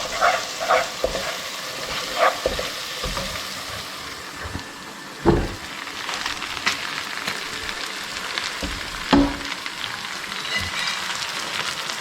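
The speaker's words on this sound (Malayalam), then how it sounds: "എണ്ണ തെളിഞ്ഞ് വരുന്നോടം വരെ ഇളക്കി കൊടുക്കണം." Garlic masala cooks in oil while being stirred, a loud continuous frying sizzle with periodic thumping scrapes of the spoon against the pan.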